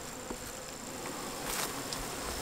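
Honey bees buzz in a steady, dense drone from a hive opened without smoke on a cool winter day, the hum close and continuous with a slight swell near the end.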